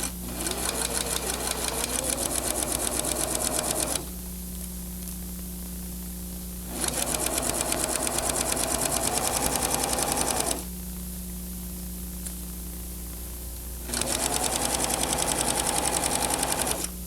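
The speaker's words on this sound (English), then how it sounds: "Then you're ready to sew all of those together." A home sewing machine stitches fabric pieces together in three steady whirring bursts, each several seconds long, separated by pauses where only a low motor hum remains. The machine sounds close and clear, with no talking.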